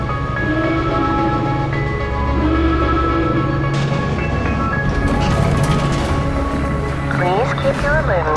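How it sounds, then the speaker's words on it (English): A train in the Black Mesa: Blue Shift video game runs with a steady loud rumble and mechanical hum, with metallic squeals and clanks rising near the end. "This train is inbound from Area 8 topside dormitories to the Central Transit Hub in Area 9."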